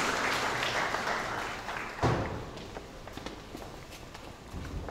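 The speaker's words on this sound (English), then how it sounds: "Let's clap for these little ones as they make their way back to their seats" Scattered applause from a funeral church service congregation as small children walk back to their seats, a broad patter that fades slightly then swells again near the end, with a brief thump in the middle.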